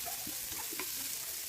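Garlic, onion and bell pepper sautéing in a pan, a faint, steady sizzle with a few small clinks and scrapes.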